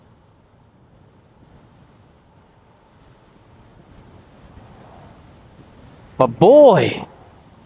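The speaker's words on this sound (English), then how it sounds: "that wind is killer today" Strong outdoor wind buffets the microphone while someone walks a heavy bike, a low steady rumble running throughout before someone briefly speaks near the end.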